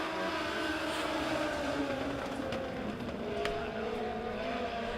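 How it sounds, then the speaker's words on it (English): Legend cars roar together at Springfield Raceway as a heat race gets the green flag, a dense, steady engine drone from a packed field with no break in loudness. "Three cars trying to break away from the field as Wayne Johnston working up on the top side"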